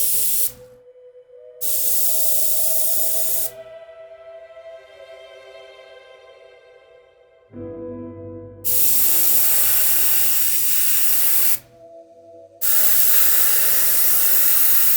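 An airbrush sprays in loud bursts of steady hiss while someone paints Fallout 4 combat armor with cleaner in the tip; several long blasts are split by pauses that carry low tonal hum and a sustained whine.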